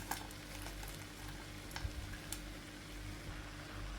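Cut pieces of chapati tossed with cooked egg in a hot pan for kothu chapati, with steady soft sizzling and scattered scraping stirs, close and alone.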